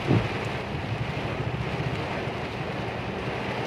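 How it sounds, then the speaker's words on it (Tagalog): Strong storm wind roaring steadily around a vehicle stuck in traffic, a continuous broadband rush with gusty buffeting against the microphone and no voices. "Lakas ng hangin."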